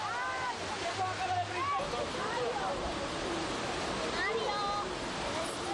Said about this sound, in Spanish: una fuente derrama las suyas